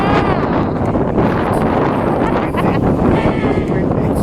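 Strong, steady seaside wind buffets the microphone in a continuous low roar by the ocean in South Africa, with voices talking faintly under the gusts.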